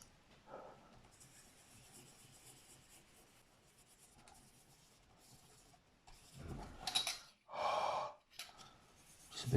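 Soft, close breaths are blown onto a 1/35 scale Trumpeter Chinook model helicopter, faint at first, then a few stronger exhalations near the end over a quiet background.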